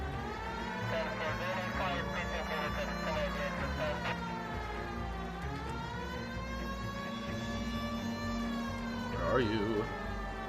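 A police car siren wails continuously in the video game L.A. Noire, its steady rising and falling tone carrying over engine and street noise at moderate volume with no talk.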